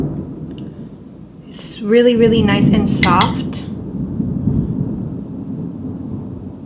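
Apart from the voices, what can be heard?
thunder during Florida rainy season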